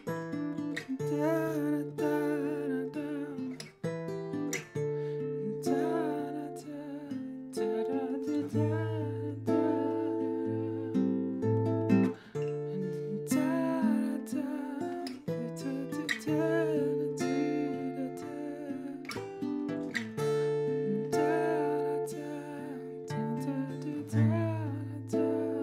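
A guitar plays the verse of a song, steady and continuous, with chords and melodic lines ringing out clearly and alone at an even, moderate volume throughout.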